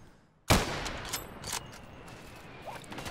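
A loud, close M40A1 sniper rifle shot from the Insurgency video game cracks out suddenly and then rings into a long, fading echo tail, with faint mechanical clicks after it and no talk.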